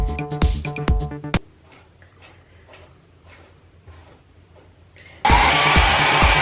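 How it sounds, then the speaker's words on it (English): A hair dryer blow-drying short hair whirs loudly, cuts off into quiet with faint clicks and rustles, then roars back on at full strength. "Blow dry is done."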